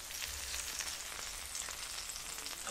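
Salmon sizzles and fries in hot oil in a pan, a steady close crackling hiss that runs without a break and has no talk over it.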